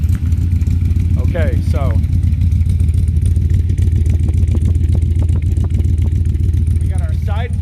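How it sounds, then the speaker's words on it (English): A 1963 Corvette engine runs through side pipes with a loud, steady, rumbling idle that fills the whole stretch, while someone speaks briefly near the start and end over the exhaust note. "we got our side pipe singing to us"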